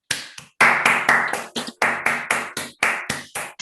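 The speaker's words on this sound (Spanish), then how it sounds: "Un gran aplauso entonces para Jimena Arroyo Letelier." Small audience at an online academic colloquium clapping in choppy, separate bursts, each clap cluster cutting off abruptly before the next, a dozen or so in quick succession.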